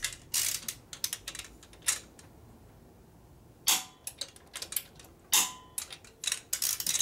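A torque wrench on a rebuilt 1965 Harley-Davidson panhead 74 cubic inch FLH engine, tightened to 65 foot-pounds: close bursts of rapid ratcheting clicks, then a pause before more clicking strokes.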